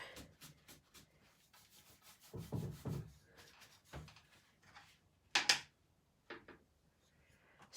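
Paint being rubbed back over furniture transfers on a boho chest, heavy mint julep paint, giving soft intermittent scrubbing strokes, close by, with a sharper scrape burst near the end.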